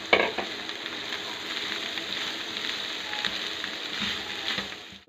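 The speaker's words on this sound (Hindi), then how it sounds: "दाल को थोड़ा सा हम भून लेंगे इसे, यहाँ लाइट्स ब्राउन सी कर लेंगे हम।" Dal lightly roasting in a pan for a dal karela dish gives a steady close sizzle with scraping stirs throughout, louder at the start, no speech.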